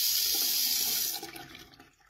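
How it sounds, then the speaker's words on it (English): Water gushes from a newly installed faucet on a stone double bathroom sink, a loud close hiss of running water that cuts back and fades away after about a second. "The water is working."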